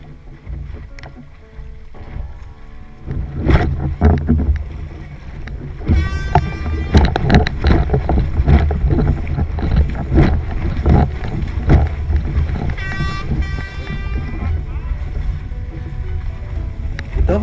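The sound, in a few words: double horn signalling a false start at a windsurfing race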